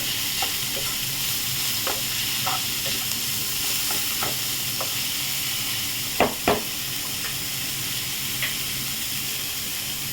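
Cabbage with salt frying in a pan gives a constant sizzling hiss, with a spatula scraping and tapping the pan at intervals and two sharper knocks near the end.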